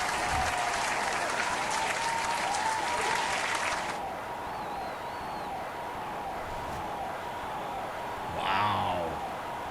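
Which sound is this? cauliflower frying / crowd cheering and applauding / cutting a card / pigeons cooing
crowd cheering and applauding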